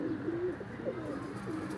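Domestic pigeons give soft, rolling coos close by, two or three warbling phrases over steady background hiss; no wingbeats stand out.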